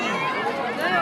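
Dense crowd babble at a Gangaur fair at Lal Talab stadium in Nechhwa, with many overlapping voices forming a steady, close hubbub throughout the short moment.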